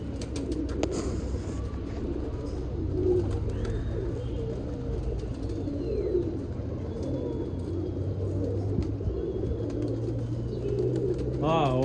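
Pigeons coo in soft, repeated murmuring calls close by, with a steady traffic hum underneath.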